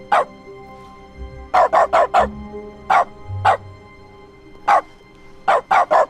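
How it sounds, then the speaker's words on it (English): Repeated short dog barks triggered by the bark console command in The Stanley Parable, loud and close, coming singly and in quick clusters of three or four across a quiet room tone. "Type bark into the console. Now whenever you click, you bark."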